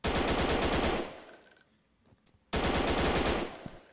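Loud, close automatic gunfire in the Minecraft-style blocky shooter Block Battlefield: a sustained rapid burst, a short pause with only faint residue, then a second long burst starting abruptly.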